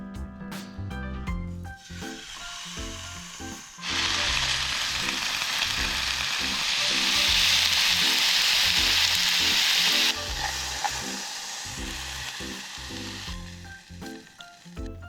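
Beef chuck steak hissing and crackling loudly in a hot pan while camping, a steady sizzle that swells in the middle, with light clatter and scraping around it.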